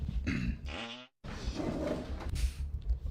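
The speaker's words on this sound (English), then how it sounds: "Just a little fart." Two short flatulent bursts, the second a longer rasping buzz, followed by a brief silence and then muffled rustling and background noise close by.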